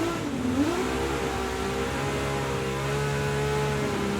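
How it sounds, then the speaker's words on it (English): A Honda car engine in the video game Gran Turismo 7 turns over and settles into a steady, humming idle, its pitch rising briefly at the start before holding even and close. "see what this car sounds like with its startup sequence"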